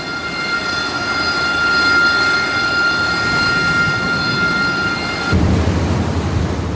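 Harrier jump jet engines roar aboard the amphibious assault ship USS Saipan at sea, a loud, steady jet whine with a high tonal hum that cuts out near the end, leaving a broad rumble.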